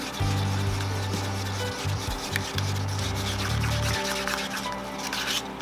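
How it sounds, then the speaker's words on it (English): Thick acrylic pour paint is stirred in a cup, the stick scraping the sides in steady rubbing, rasping strokes with a low hum underneath, close up and fairly quiet. "I always scrape my sides when I'm mixing."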